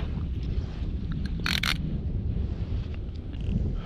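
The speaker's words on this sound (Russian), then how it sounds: "Что-то и ветер, ребята, раздулся." Steady wind rumbles and buffets the microphone outdoors while ice fishing on first ice, with a brief brighter gust of noise midway.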